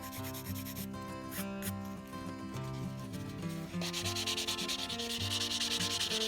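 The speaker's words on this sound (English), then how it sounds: "So it's time to file and buff like you normally would." Fingernails are filed and buffed with steady rubbing strokes during a nail art session, a close, soft, continuous scraping that grows brighter and grittier near the end, with no voices.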